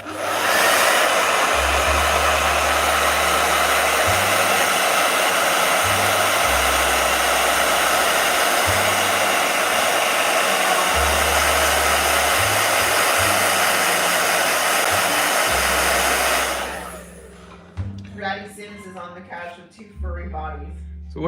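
A blow dryer roars steadily and loudly at close range while drying hair, its motor pitch shifting slightly as it is moved, then switches off and a person begins talking.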